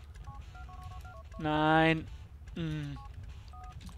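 A mobile phone in GTA: The Lost and Damned beeps as it dials, with short tone blips before and after a longer ringing tone. Someone speaks briefly over the beeps.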